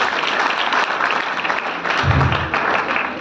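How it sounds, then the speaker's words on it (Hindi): Loud, dense applause from an audience at a Vestige business-plan meeting, steady broadband clapping filling the room throughout. "जोरदार तालियां सब लोगों के लिए जो प्लान दिखाना जानते हैं"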